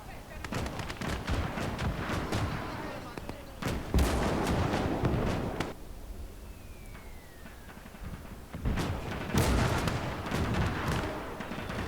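Artillery and gunfire rumble through a World War II battle in Call to Arms: Gates of Hell, with repeated booming blasts and crackling shots stacked across the whole stretch, loud and dense, easing briefly in the middle before swelling again.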